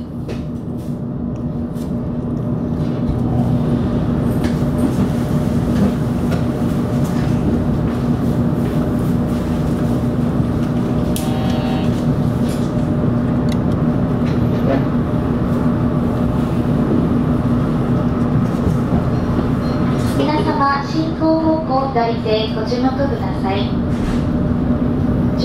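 Limited express train 36+3, Blue Route service bound for Hakata, pulling out of Nakatsu station: a sustained rolling rumble and engine hum building after the start, with a warbling chime or announcement tone near the end and voices under the noise.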